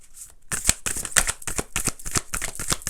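Tarot cards are shuffled by hand up close in a quick, uneven run of crisp riffling slaps and flutters, with no voice over the sound.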